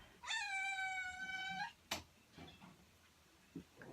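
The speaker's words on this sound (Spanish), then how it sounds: "Mi adjunta, la gatita, la Monsi, se quedó afuera, quería entrar, hacer ruido" A cat shut outside and wanting to come in gives one long, drawn-out, wailing meow up close, followed by a few faint knocks and clicks.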